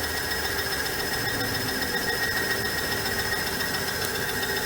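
A steady engine idle from a motor running with no oil during a Turbo Maxx additive test, a continuous even drone with faint mechanical ticking and no voices.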